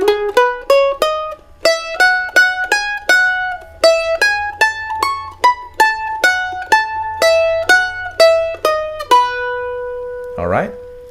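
Pickup notes and opening of a fiddle tune played on a fretted string instrument, likely a mandolin: a steady run of bright, crisply plucked single notes, close and clear, ending with a brief scraping noise.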